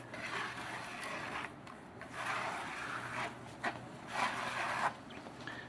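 A V-notch trowel spreads a thick waterproof coating across a deck in repeated rasping, scraping strokes, each lasting about a second, close and moderately loud.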